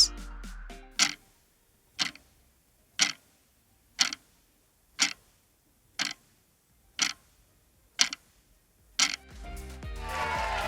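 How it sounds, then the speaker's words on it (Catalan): A household clock ticks about once per second, about ten crisp, evenly spaced clicks heard close and alone in an otherwise quiet room, with a brief musical flourish at the start and end. "És un rellotge!"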